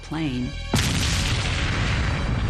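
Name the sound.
explosion at an aircraft crash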